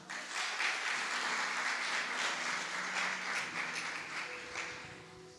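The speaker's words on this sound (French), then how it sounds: "Est-ce que vous pouvez acclamer pour ça?" An audience applauds steadily at a talk on what women dislike in men, dense clapping that holds at an even level and then slowly tapers off near the end.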